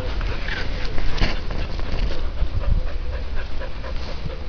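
A dog pants hard and whimpers close by while playing with a ball out in the fields, with rhythmic breathing, soft whines and scuffling paw steps.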